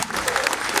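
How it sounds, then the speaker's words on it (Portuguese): A brief burst of dense, steady clapping from a crowd honours the mayor of Remanso during a public speech at a new bus station, loud and continuous for under a second. "salva de palmas para o prefeito de Remanso"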